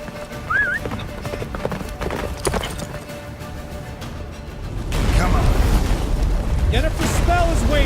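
Galloping hooves of Roach, Geralt's horse in The Witcher 3 during the battle of Kaer Morhen, thud steadily under a dense battle din that swells louder midway, with a neigh and a voice heard early.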